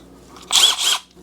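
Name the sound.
screwing in a magnetic bit holder with a driver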